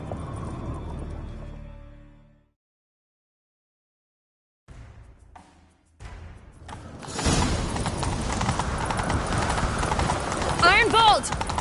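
Video game hooves pound in a fast gallop after a short silence, loud and continuous, with a horse whinnying near the end.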